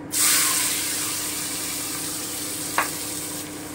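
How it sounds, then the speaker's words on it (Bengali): Onions dropped into hot oil with fried garam masala for butter chicken give a loud, steady sizzle and frying hiss throughout, with a brief clack of a utensil near the end and no talking. "এবার আমি পেঁয়াজটা দিচ্ছি, হালকা করে ভেজে নেব"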